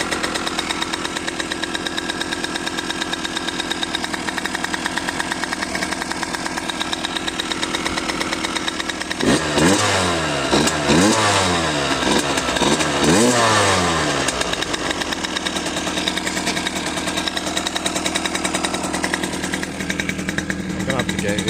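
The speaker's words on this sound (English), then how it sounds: "It's definitely running better." An Aprilia RX50 two-stroke motorcycle engine on a Dellorto PHBG carburetor runs steadily near by, with a burst of sharp revving in the middle before settling back to a buzzing idle, people talking over it.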